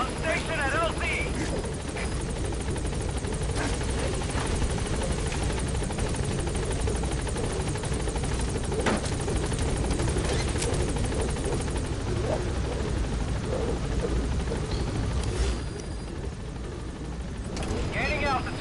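A B-Quad support helicopter arrives and hovers over a landing zone in Metal Gear Solid V, its steady rotor roar continuous and loud throughout, with radio voice chatter over it.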